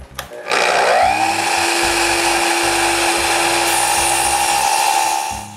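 A new power saw set for a partial-depth cut spins up and bites into a wooden beam, a loud, close, steady whine with a sustained high tone held for several seconds before it begins to slow.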